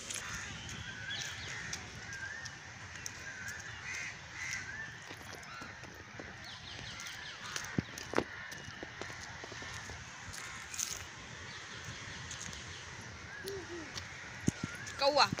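Crow cawing in a city park in Bokaro, with scattered caws rising over busy outdoor ambience and people talking nearby.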